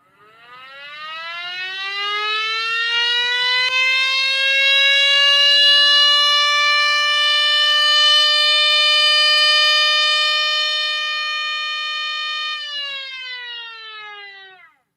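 A 3D-printed Mini Model 5 siren winding up into a loud, rich, multi-toned wail, holding a steady pitch for several seconds, then dropping and fading as it spins down, with no talk over it.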